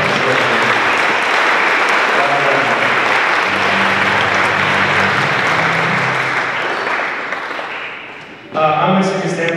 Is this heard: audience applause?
yes